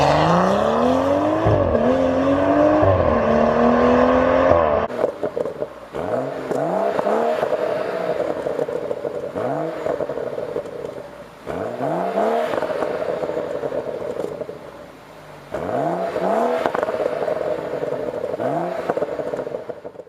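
A turbocharged straight-six BMW M135i, stock and straight-piped, revs loudly up close, then pulls through repeated rising acceleration runs with sharp drops and crackles between gear changes.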